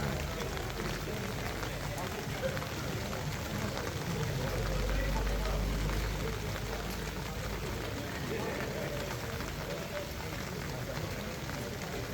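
Rain falls steadily outdoors at a koi show in Japan, a constant dense hiss of drops on surfaces that stays even and fairly soft throughout with no clear voices.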